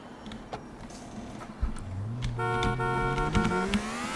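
A car in GTA 4 sounds up close: an engine drone climbs steadily in pitch, and sustained horn-like electronic tones with a few sharp knocks sit over it.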